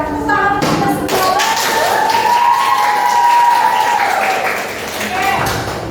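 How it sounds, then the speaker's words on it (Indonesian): A school class claps together, scattered taps building into a short burst of applause while voices chatter and call out over it. "Tepuk tangan kita semua."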